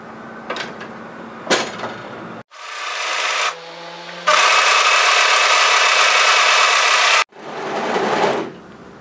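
An overlocker stitches the folded edge of a sewing-pattern beanie in several close, loud whirring bursts, the longest running about three seconds, with short pauses between them and no talking.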